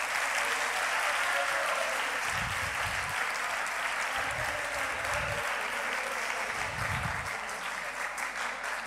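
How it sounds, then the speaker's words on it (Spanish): An audience at a human rights talk gives a sustained round of applause, steady dense clapping throughout, with a few low thumps underneath. "Li fem un altre fort aplaudiment."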